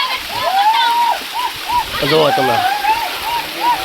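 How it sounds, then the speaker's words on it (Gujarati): Rainwater pours down stone steps on Girnar hill near Junagadh during heavy rain, a steady rushing flow under someone talking close by. "આ પગથિયાની અંદર એટલું અત્યારે પાણી જાય છે"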